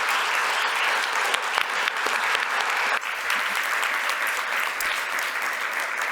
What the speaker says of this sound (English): Please give a final round of applause to our speakers.